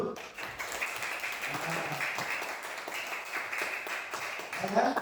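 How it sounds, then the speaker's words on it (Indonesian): Indonesian classroom students clapping hands together during a Hindu religious education lesson, moderately loud and steady for several seconds, with faint voices mixed in. "Kasih tepuk tangan dulu."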